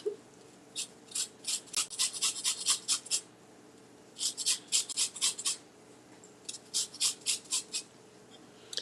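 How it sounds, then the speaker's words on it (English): A lemon is zested on a grater in rapid rasping strokes that come in three bursts of quick scrapes separated by short pauses, close and fairly quiet with no talk. "I think I'm gonna go ahead and zest the whole thing."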